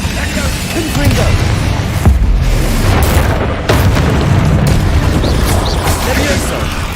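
A Confringo fire spell bursts in Hogwarts Legacy, a loud booming explosion with a sustained rumbling roar lasting several seconds, over a steady game soundscape.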